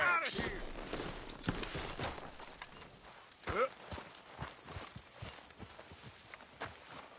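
Horse hooves clip-clop in Red Dead Redemption 2, a fairly close, uneven run of hoof strikes with a louder thud partway through, under some game voices.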